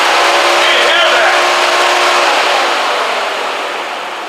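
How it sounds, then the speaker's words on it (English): A totaled Mercedes S500's engine cooling fan whirs with a loud, steady whoosh up close, slowly fading toward the end, with no talking. "The fan is running."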